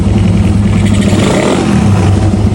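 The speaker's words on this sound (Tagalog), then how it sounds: "Kung mapapansin nyo yung kanyang idle, sobrang stable mga sir." A Raider 150 motorcycle idles after a carburetor shim adjustment, its engine giving off a loud, close, steady rumble that holds an even pitch throughout, with no talking.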